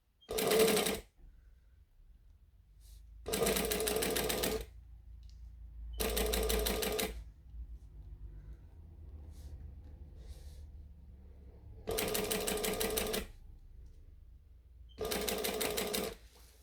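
A home sewing machine stitching fabric, running in five loud, close bursts of fast mechanical whirring, each lasting about one to one and a half seconds, separated by quieter pauses with faint handling.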